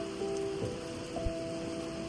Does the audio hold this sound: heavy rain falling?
yes